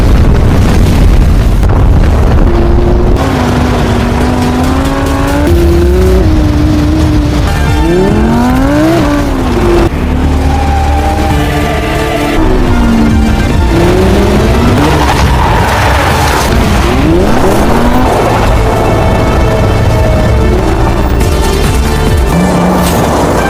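Cars roaring through an Indian action film chase, engines rising and falling in repeated revving sweeps with tire squeals and wind noise, loud and busy throughout with no talking.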